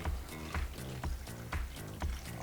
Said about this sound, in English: We're gonna have a ton of ice chips in here, so we'll just give that a little pour.